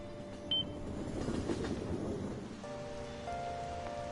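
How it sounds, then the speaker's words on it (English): Steady rain falls in the video game Persona 5 Royal, a soft, even hiss with a quiet tonal background layered on top, no voices. "I don't like all this rain."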